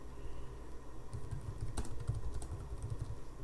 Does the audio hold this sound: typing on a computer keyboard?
yes